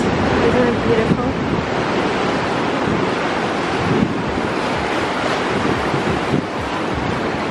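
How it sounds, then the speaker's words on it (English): Ocean waves wash steadily onto the sand at Daytona Beach, a continuous close roar of surf with wind buffeting the microphone throughout. "And then water slowly coming from the ocean."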